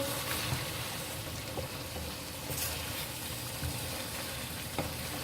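Desi chicken with cream and black pepper being fried bhuna-style in a pan, a soft, even sizzle with faint stirring scrapes now and then, fairly quiet and without talk.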